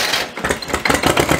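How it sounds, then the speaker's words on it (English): A tractor engine with a faulty, loud muffler runs close by, making a rough, pulsing chug with irregular bursts and no voices. "the camera's mic is not picking how loud the muffler is"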